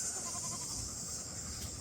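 Goats on a farm bleating faintly amid a steady broadband hiss, short wavering calls near the start with no one talking.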